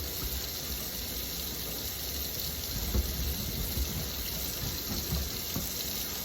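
A cast iron skillet is scrubbed with soap under a steady stream of running tap water, which gushes continuously and fairly close for several seconds with faint scraping underneath.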